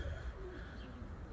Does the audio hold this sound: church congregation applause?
no